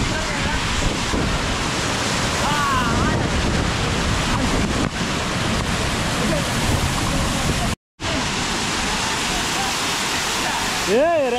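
Steady roar of a waterfall with rushing water, loud and continuous throughout, mixed with wind buffeting the microphone and people talking nearby.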